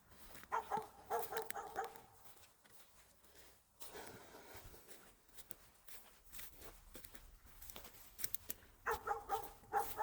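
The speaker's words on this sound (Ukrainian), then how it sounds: "це наша маленька біла гавкає" A small white dog guarding her puppies barks in short bursts at a distance in a forest, quiet and intermittent, with pauses between and rustling in the background.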